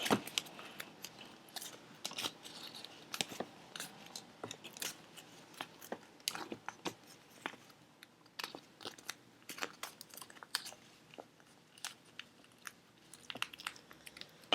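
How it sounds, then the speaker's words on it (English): Duct tape is wrapped around a small temperature sensor, producing faint, close crinkles, tacky crackles and small snaps in an irregular patter, with no voices. "So here I have a piece of duct tape, and I just wrap it around."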